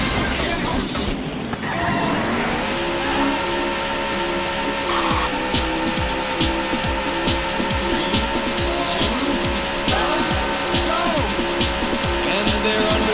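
Race car engines and tire squeals from the Daytona USA arcade racing game: a loud, continuous, layered engine drone with squealing tires and a steady rhythmic pulse running through the whole stretch.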